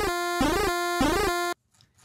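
A bright, buzzy NES-style chiptune square-wave synth plays a short repeating riff without portamento, its notes jumping abruptly from pitch to pitch without gliding, then cuts off into faint noise.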